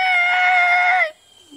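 A voice imitates a screeching halt during a sermon, a loud, sustained high-pitched wail about a second long that drops and cuts off abruptly.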